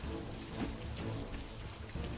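Steady rain from the video game Sephiria, a dense, even patter of drops on a surface that stays loud and unbroken from start to finish.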